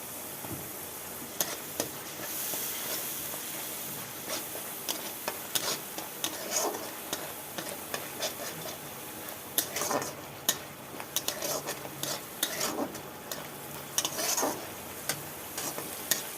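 Spice paste with water and turmeric stirred in a frying pan, a soft continuous sizzle broken by repeated scrapes and knocks of a spatula against the pan, close and uneven in rhythm.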